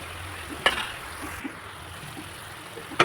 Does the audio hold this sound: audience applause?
no